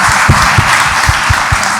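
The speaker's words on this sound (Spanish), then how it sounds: "un aplauso fuerte a Dios" A church or event audience gives loud applause and rhythmic clapping, with steady beats standing out from the dense crowd noise over a short stretch.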